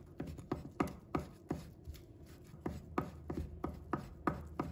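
Rapid, steady knife strokes on a cutting board as soaked dried shiitake mushrooms are diced small, a close series of crisp chops with light rubbing between them.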